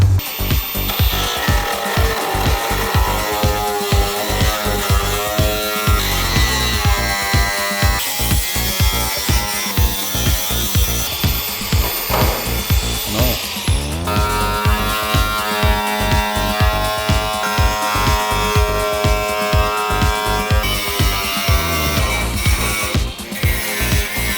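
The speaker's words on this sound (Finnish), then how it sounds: "Leikataan eka toi kontti tosta pois." Power tool cutting through the rusty trunk sheet metal of an Audi 100 C1 under restoration, a continuous loud grinding, sawing whine with rhythmic pulsing strokes and pitch shifts, close and steady throughout with no talk.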